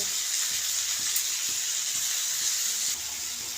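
Spices sizzling in hot oil in a pan while a curry is cooked, a loud steady frying hiss with soft stirring scrapes and clicks scattered through it, no talking.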